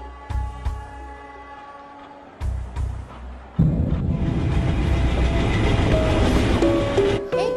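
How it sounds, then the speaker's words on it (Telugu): A passenger train pulls out of a station platform: a few low rumbling thumps, then a sudden loud, steady rumble and clatter that carries through the rest, close and with no speech. "ట్రైన్ మూవ్ అవుతుంది"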